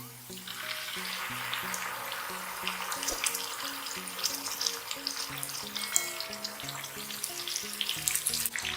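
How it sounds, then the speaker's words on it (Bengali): Pieces of hilsa fish fry in hot oil with onions in a pan, a steady close sizzle and crackle running throughout, with quiet music playing underneath. "ইলিশ মাছগুলোকে আমি হালকা একটু ভেজে নিব"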